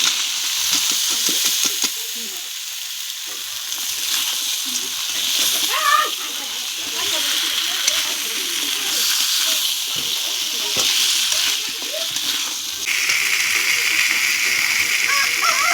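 Crabs frying in hot oil in a pan for a spicy crab curry, a steady bright sizzle and spatter running throughout with brief stirring clatter, loud and close, while a person talks over it at times.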